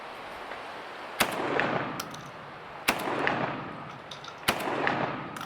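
A JTS M12 AK-style 12 gauge shotgun firing Winchester Expert steel shot shells at an outdoor range, with three loud, sharp blasts spaced about one and a half seconds apart, each followed by a rolling echo.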